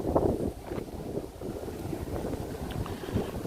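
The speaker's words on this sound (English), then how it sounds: "It's getting windier and windier." Gusty wind buffeting in Central Park, New York City, a low rumbling roar with rolling surges, close and steady under no talk.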